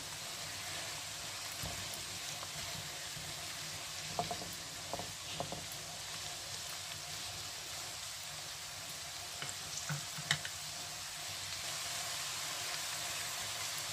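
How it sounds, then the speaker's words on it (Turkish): Coarsely chopped onions sauté in a pan with a steady, fairly quiet sizzle and crackle, plus a few light scrapes of stirring. "Evet, biraz kavrulmaya başladı."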